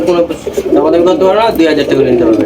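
Pigeons at a market stall of fancy breeds such as Bombay, satin racer, Chinese lakha and Danish coo in soft, throaty repeated calls close by, with people talking over them.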